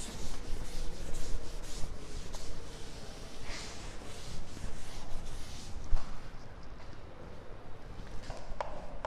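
Writing is rubbed off a classroom board during a mathematics lesson, making a continuous soft scrubbing that swells and eases, with faint knocks scattered through it.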